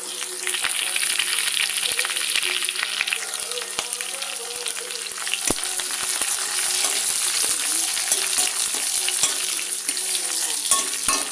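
Curry leaves dropped into hot oil give a loud, steady sizzle and crackle while cooking a gooseberry (nellikka) pachadi, with scattered sharp pops and stirring, no voices.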